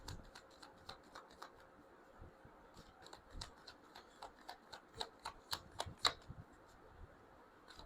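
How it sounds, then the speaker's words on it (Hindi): A deck of tarot cards is shuffled close by: quiet, rapid flicking and riffling clicks that grow denser and louder toward the end, with no talk. "मैं शफल कर रही हूँ"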